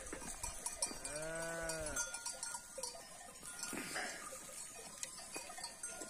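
A sheep bleats once, a clear wavering call lasting about a second, amid faint rustling and a distant cowbell-like clank somewhere in a forest on a village farm.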